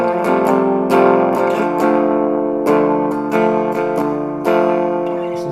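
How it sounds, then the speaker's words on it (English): Clean electric guitar from a Fender Jaguar on its bridge pickup, bright chords and single notes ringing out in several distinct strums with sustained decay, close and clear with no talk. "So I'm using my Fender Jaguar guitar on the bridge pickup"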